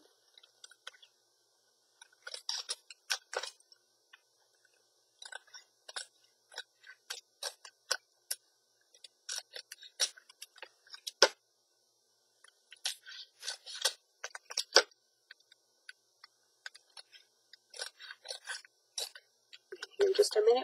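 Scissors trimming a handmade craft piece, in quick clusters of crisp close snips separated by short pauses, with the snipping picking up again near the end.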